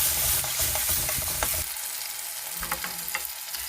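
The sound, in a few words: ginger garlic paste being sautéed in a pan for misal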